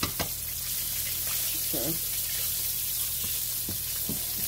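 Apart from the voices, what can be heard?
chops frying and sizzling in a pan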